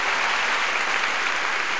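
A church congregation bursts into steady, dense applause, close and loud, sustained evenly throughout with no pauses.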